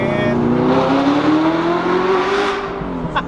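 Straight-piped Audi R8 exhaust revving loud and close, a rising engine tone held steadily for a few seconds before easing off.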